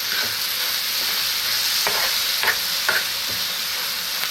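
Paneer gravy ingredients boiling and sizzling in a pan, a steady bubbling hiss with a few sharp clicks of a spoon stirring, with no talking.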